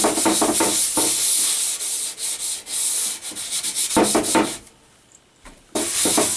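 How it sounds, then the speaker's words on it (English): Rhythmic back-and-forth scrubbing of a scrubber pad with cleaning solution against sticky dirt on the back of a wooden cabinet being refurbished, close and steady with brief pauses between strokes. "it comes with the scrubber and this cleaning stuff. And just clean off all the dirt off the back."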